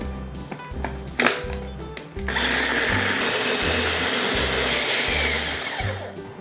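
A blender whirs steadily for several seconds, grinding a seasoning mixture of dry powder, salt, sugar and black peppercorns for a stinky tofu dish; it starts after a few short bursts and clatters, then runs loud and continuous to the end.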